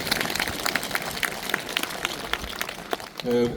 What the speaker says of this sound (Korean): 뜨거운 박수 한번 부탁드리겠습니다